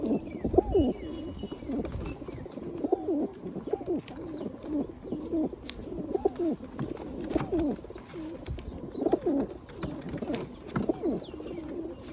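Pigeons coo in a steady run of soft, rolling calls close by, one phrase after another for about twelve seconds, with faint chirps above them.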